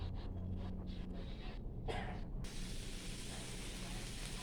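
Over a steady hiss of chili and chicken sizzling in a pan for a Thai basil stir-fry with salted egg, a cook gives one brief, muffled sneeze partway through.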